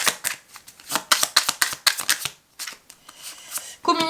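Oracle cards shuffled and drawn for a love-life reading: a brisk run of close, crisp riffling flutters and card snaps in uneven bursts, pausing briefly before more shuffling and a final slide of a card.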